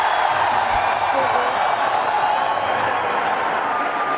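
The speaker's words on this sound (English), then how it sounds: "You could hear them just erupt in applause there" A cricket stadium crowd at the PSL 2017 playoff between Karachi Kings and Islamabad United roars with dense, sustained applause and cheering, while a commentator's voice carries over the noise.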